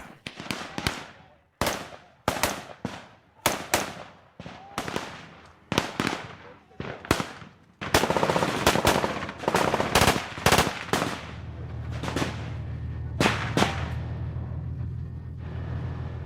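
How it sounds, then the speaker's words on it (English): Gunfire rings out as soldiers open fire on a farm in Gaza, sharp sharp reports and rapid bursts crackling one after another, close and loud, with a low rumble underneath later. "To drive potential enemies out of their hiding places, the men first open fire."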